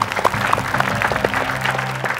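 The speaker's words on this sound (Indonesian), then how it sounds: "tepuk tangan teman-teman untuk Kes dari Lapor" A studio audience at a comedy show applauds a guest with steady, fairly loud clapping, a few sharper claps standing out, and faint voices in the background.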